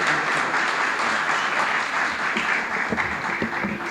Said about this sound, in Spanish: Reiteremos el aplauso